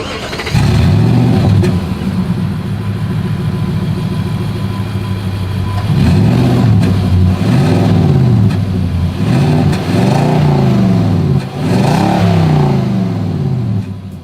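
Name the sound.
pickup truck exhaust revving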